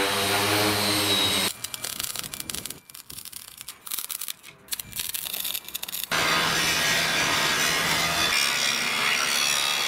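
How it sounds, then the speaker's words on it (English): A handheld router whines loudly and cuts in rough, uneven bursts around a workpiece clamped in a vise, with the tone dropping and rasping as the bit bites, then returning to a steady high whine. "I can chuck it up in a vise, and I can run a router around it."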